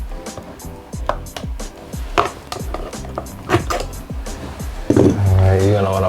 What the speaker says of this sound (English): You're gonna wanna pop those clips off in the back.